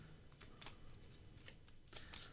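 A deck of Magic: The Gathering cards being shuffled by hand, quiet close riffling bursts with soft flutters repeating several times.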